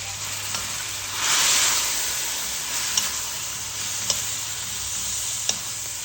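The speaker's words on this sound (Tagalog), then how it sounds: "Habang tayo nagigisa" Beef sautés in a pan with a steady, close sizzle and frying hiss. The sound swells briefly early on and has a few faint ticks through it, with no talking.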